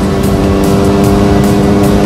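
A Mitsukoshi Eagle 125 motorcycle engine revving hard at high RPM, around 7,000, during a speed test, a loud sustained buzzing drone with steady harmonic whine and no pauses.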